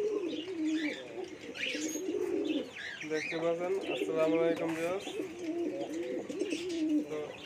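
Pigeons coo in soft, repeated throaty phrases close by, mixed with light bird chirps, while a person talks over them near a nest that holds two freshly laid eggs.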